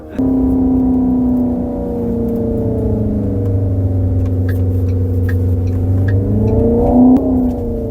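Hongqi E-HS7 electric crossover accelerating hard on full throttle, a steady loud drivetrain whine and road roar that rises in pitch near the end, heard from inside the cabin with no talking.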